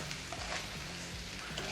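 Rice and onion being stirred in a pan while toasting for a palm heart risotto, with a steady close sizzle and soft scraping strokes running throughout.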